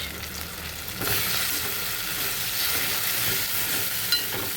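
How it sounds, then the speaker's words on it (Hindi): Tomatoes and spices such as dried coriander and Kashmiri red chilli cook in a pan for bread upma, a broad, hissing sizzle that jumps louder after a second and then holds steady, with a faint scrape near the end. "ये जो टमाटर हैं इनको हम सॉफ्ट होने तक पकाएंगे"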